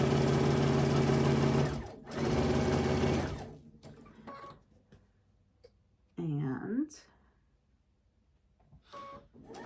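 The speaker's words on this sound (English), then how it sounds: "You will then sew a straight line right through that diagonal in whatever method you would like." A sewing machine stitching a straight diagonal seam across a pre-cut hen house quilt block runs loud and close in two steady bursts, then stops, leaving quieter handling noises and a short mechanical whir.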